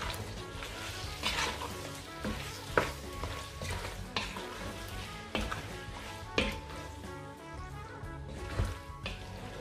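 Potato and mini meatballs with garlic powder being stirred and mixed in a pan, giving a steady sizzle with repeated scraping strokes of a utensil, close and moderately loud, with no talking.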